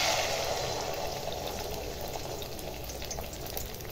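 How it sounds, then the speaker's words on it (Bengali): Beaten egg hitting well-heated oil in a wok, giving a steady, close hiss and crackle of frying that stays loud and even throughout with no talking. "ডিম ভাজিটা করার জন্য একটা কড়াইতে তেল গরম করে নিয়েছি ভালো করে। এখন ডিমটা ঢেলে দিব।"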